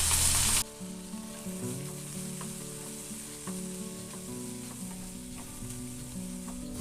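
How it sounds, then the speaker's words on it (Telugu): Grated carrot and thinly cut potato pieces, stirred as they fry in a pan for a vegetable momo filling, give a soft, steady sizzle under melodic background music, with no talking. "తర్వాత సన్నగా తరిగి పెట్టుకున్న ఆలుగడ్డ ముక్కలు వేసుకొని కలుపుకోవాలి"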